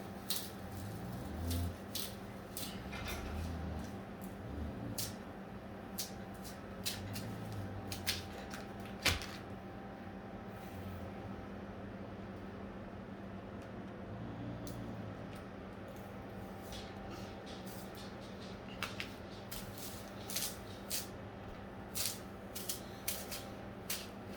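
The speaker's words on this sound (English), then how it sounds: "Now after it's applied to the substrate, we're just going to peel back" A vinyl decal peels slowly back from its substrate, giving faint crackling ticks and small snapping clicks scattered irregularly over a quiet background, close up with no talking.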